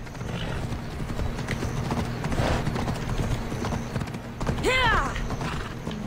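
Video game horse hooves clip-clop at a steady walking rhythm, close and clear, with creaking tack and a brief neigh near the end.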